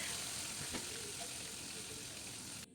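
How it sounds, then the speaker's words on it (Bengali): Pieces of bhetki fish fry in hot oil with a steady, soft sizzle and crackle, plus a faint clink partway through before the sound drops away at the end. "এরপরে আমি তেলের মধ্যে আবারও 4 পিস দিয়ে দেবো।"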